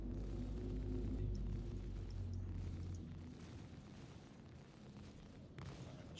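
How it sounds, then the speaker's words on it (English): A missile strikes a ship during an Idris battle in a video game, giving a low, rumbling boom that fades slowly into a steady background drone. "The fourth missile, last missile hit."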